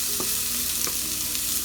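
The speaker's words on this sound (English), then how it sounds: "I'm going to go ahead and get those stirred in there because we want to get the onions flavored too" Fried potatoes and onions stirred in a hot pan, a continuous loud sizzle with a few brief scraping strokes of the spoon, close and without talk.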